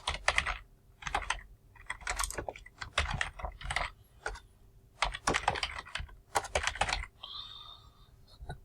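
Fingers type a waypoint name on a computer keyboard in Garmin BaseCamp: quick clusters of crisp key clicks in uneven bursts with short pauses, close and clear, ending in a brief softer mechanical rattle.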